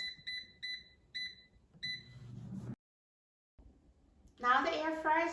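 An air fryer timer beeps a run of short, high, evenly spaced tones to signal cooking is done, followed by a silence and then a voice talking.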